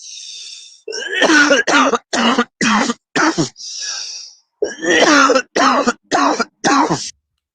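A loud, close run of coughs and throat clearing from one person in short, rough bursts separated by brief silences.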